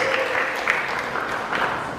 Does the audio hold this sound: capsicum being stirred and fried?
no